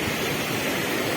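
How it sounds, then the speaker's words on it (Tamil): Water rushes steadily at Bikkanapalli Falls waterfall, a continuous loud broadband roar with no pauses. "தண்ணி பாருங்க எவ்வளவு போர்த்தா வருது."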